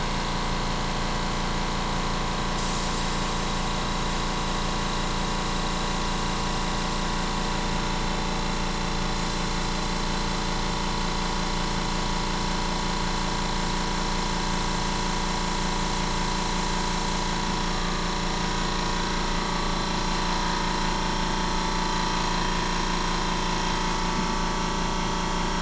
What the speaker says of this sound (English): And of course that is the compressor.